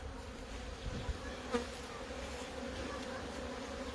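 Honeybees buzz steadily around an open hive during an early-season inspection, a soft continuous drone with a few individual bees passing close, quiet overall and without speech.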